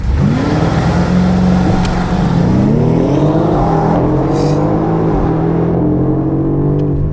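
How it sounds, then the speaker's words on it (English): A BMW X6M Competition accelerates hard from inside the cabin, its engine roaring loudly and climbing through the gears in rising sweeps, with brief dips at each shift. "X6M competition, real world acceleration"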